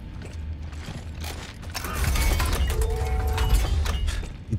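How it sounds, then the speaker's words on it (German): A heavy door opening in The Callisto Protocol, slow grinding mechanical creaks and gear-like clanks with a deep rumble swelling midway, loud and close, with no talk. "Die Tür öffnet sich, als würde ich gerade in Narnia reingehen."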